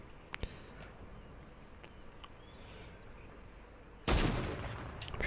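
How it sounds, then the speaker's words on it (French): Distant gunfire in Fortnite on PS4, a couple of faint isolated pops early, then a louder sustained burst of shots near the end over quiet ambient noise. "Ça tire là-bas."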